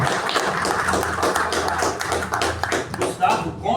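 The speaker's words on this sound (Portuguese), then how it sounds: "Merece uma salva de palmas." Audience clapping after a talk at a reading room in Itanhaém, a dense patter of hands filling the room at steady volume, with murmured voices mixed in beneath the applause.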